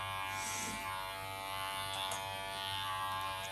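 A Silvercrest electric shaver runs steadily and close by, giving a continuous high-pitched buzzing hum with no pauses.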